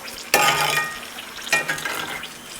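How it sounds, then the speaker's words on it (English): Avocado slices, batch-fried for tacos, dropping into hot oil and frying, two bursts of loud crackling sizzle that ease into a steadier, quieter bubbling, heard up close. "I've been letting these fry maybe 3 to 5 minutes"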